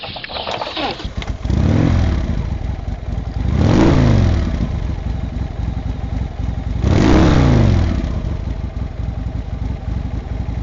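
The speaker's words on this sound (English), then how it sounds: "Start the engine." A Harley-Davidson motorcycle engine starts and settles into a deep, close idle, then revs twice in slow swells before dropping back to a rumbling idle.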